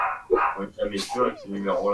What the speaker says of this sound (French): C'est le chien de qui là qui aboie là?